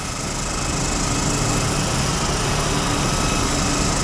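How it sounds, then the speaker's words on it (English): Handheld polisher run with almost no pressure across rusty metal, breaking up surface rust: a loud, steady, continuous high-pitched whirring grind, close and unbroken throughout, with no talk. "I'm actually almost lifting this polisher up."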